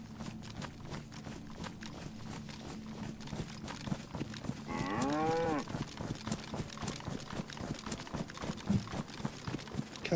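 In the video game DayZ, a single drawn-out cow moo rises midway through, set against a rhythm of quick hoof-like footsteps and background noise.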